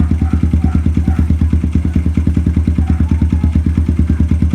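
A Suzuki GD110 pit bike with a 57mm build and a rumble idle setup ticks over in a steady, loping idle, with close, evenly spaced thumping pulses running the whole time.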